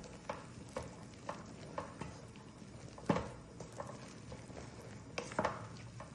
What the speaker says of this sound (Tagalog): Gagawin ko ngayon, mix yung chicken sa molokhia.